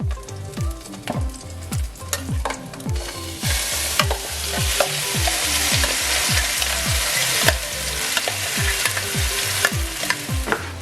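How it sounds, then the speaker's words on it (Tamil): Ground spice paste for a Tamil-style fish curry hits hot oil in a pan, giving a steady loud sizzle. A spoon scrapes and stirs in a regular rhythm throughout, alone without any voices. "முதலாவது செய்த எண்ணெய்க்குள்ளேயே மிக்சியில் நான் அரைச்ச இதை அப்படியே இதுக்குள்ளே விட போகிறேன்."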